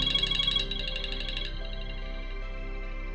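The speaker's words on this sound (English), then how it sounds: "The acoustic outlets ensure that you can hear every notification," A phone notification plays through a device's acoustic outlets as a bright, rapidly repeating electronic tone that stops after a moment, leaving a sustained lower synthetic tone.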